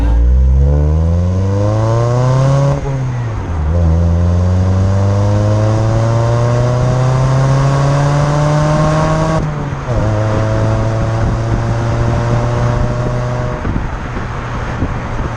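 Mini One 1.4L petrol engine revved repeatedly, loud and close, each run climbing steadily in pitch before dropping back to idle, about four rising pulls in a row with no talking.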